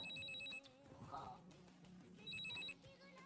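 A telephone rings faintly in two short bursts of bell tones within a room, with a low background murmur between them.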